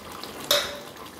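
A single short metallic scrape of a utensil against a pan sounds as fried prawns are stirred into a potato curry, close and brief over a soft steady background.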